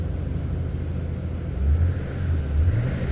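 A 2007 Mercedes-AMG with a low-mileage V12 bi-turbo engine idles with a smooth, deep, steady rumble that swells slightly a couple of times, with no voices over it.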